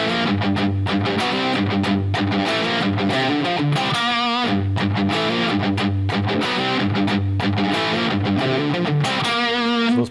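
Distorted electric guitar plays a palm-muted riff, chugging low notes punctuated by ringing chords, loud and steady with no talking.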